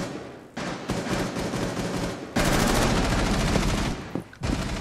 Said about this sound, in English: Let me shoot him, then you can shoot me.